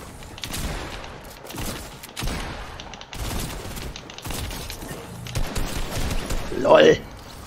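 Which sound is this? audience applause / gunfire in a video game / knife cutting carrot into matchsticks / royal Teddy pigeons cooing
gunfire in a video game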